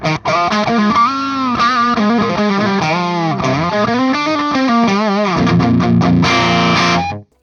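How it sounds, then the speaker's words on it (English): Electric guitar played through a Tube Screamer overdrive pedal into the clean channel of a Fender Tone Master Pro, a driven, sustained melodic line with bending notes and a chordal passage near the end, loud and alone. "Let's try turning this tube screamer on into the front of the clean channel."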